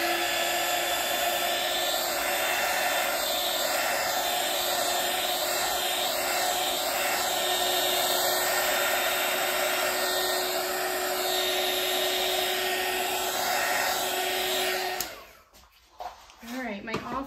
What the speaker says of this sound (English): Pardon my noise while I pop some air bubbles.